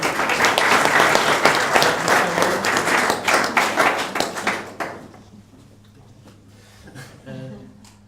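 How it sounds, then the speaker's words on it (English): An audience claps loudly for about five seconds at a speech event, the applause thinning into scattered claps and then fading into near quiet, with a few faint late taps. "So a round of applause for Pete, please."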